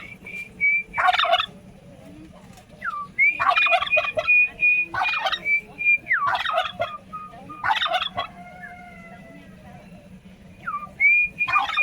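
A domestic turkey (guajolote) gobbles again and again, with about six loud, warbling bursts close by, separated by brief pauses and high whistled calls, over a faint low background hum.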